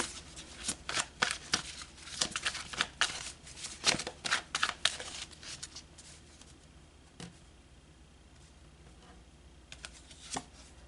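Tarot cards being shuffled by hand, a run of crisp riffling bursts and flicks in uneven rhythm close by, fading to a few faint taps and near quiet in the second half.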